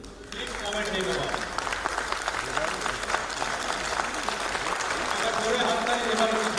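An audience claps for a Rabindrasangeet music performance, dense steady applause from a crowd with voices mixed in throughout.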